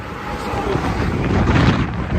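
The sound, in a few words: wind blowing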